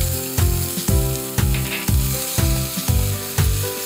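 Chili paste sizzles and fries in hot oil in a pan for a northern Thai tilapia dish, a steady loud crackling broken by repeated sharp stirring scrapes about every half second.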